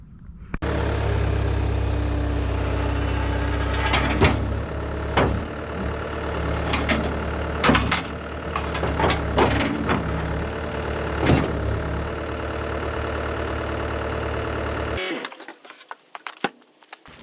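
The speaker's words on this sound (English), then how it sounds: "this motor is going to spin this, and it's so off balance that it's going to shake like crazy" A skid steer engine drives a motorized topsoil screening bucket, a cheap Chinese attachment that shakes off balance: loud, continuous close engine roar with rattling clanks and knocks throughout, then cutting off sharply near the end, leaving a few scattered clunks.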